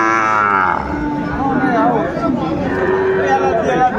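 A Sahiwal bull calf at a cattle sale in Chattogram lets out a loud, drawn-out moo close by, followed by softer lowing and murmured voices in the background.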